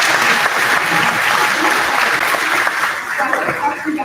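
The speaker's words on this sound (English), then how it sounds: "So again, give yourself a round of applause." Graduates and guests applaud at a 2025 graduation ceremony, a loud, full wash of clapping from a large crowd that carries on steadily, thinning slightly toward the end.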